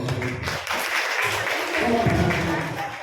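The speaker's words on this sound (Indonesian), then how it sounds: "Tepuk tangan untuk anak-anak kita." A crowd claps for children at a Halal Bi Halal gathering of an Islamic Quran school, dense ongoing applause lasting about three seconds, loud and close, with voices mixed in.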